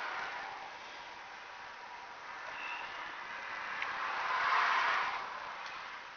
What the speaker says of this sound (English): You hear the big trucks going by.